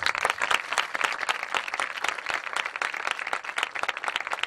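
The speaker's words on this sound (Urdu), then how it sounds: "آئیے خدا کے پاک روح کے لیے زور سے تالیاں بجائیں۔" Lively applause from a church congregation at a worship gathering, with crisp individual claps standing out and fluctuating in energy, fairly close and continuous.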